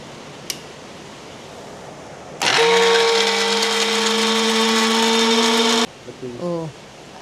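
An electric mixer grinder grinds chicken, starting abruptly with a loud, high motor whine that holds steady for about three and a half seconds. It then cuts off, followed by brief faint sounds in a quiet room.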